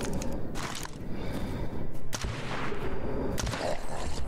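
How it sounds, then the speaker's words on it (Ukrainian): New pistol fired in the game S.T.A.L.K.E.R. Anomaly: several sharp gunshot cracks spaced irregularly over a rumbling, noisy game background, fairly loud. "Довелося випробувати на ньому новий пістолет."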